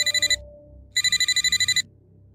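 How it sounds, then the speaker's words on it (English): A telephone rings as a sound effect: a short trilling burst, a pause, then a longer electronic ring of rapid pulses, clear and close over a faint low background. "That's when my phone rang again."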